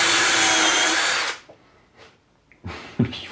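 Power drill whines loud and steady for over a second while driving a screw into a wooden shelf, then stops, followed by a few faint knocks and a short burst of handling noise.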